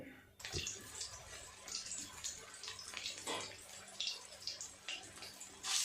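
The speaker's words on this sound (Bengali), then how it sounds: "তেলও গরম হয়ে গেছে, এবার এক এক করে তেলে দিয়ে ভেজে নেব।" Spinach fritters dropped one by one into hot oil, a steady close sizzle and crackle with brief surges as each piece goes in, no talking.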